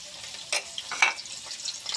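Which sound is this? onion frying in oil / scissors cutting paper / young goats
onion frying in oil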